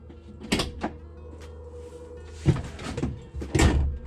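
A Polaris General cargo bed is slammed down, giving a few sharp thuds and rattles in short succession, close and fairly loud in a garage, with no talking.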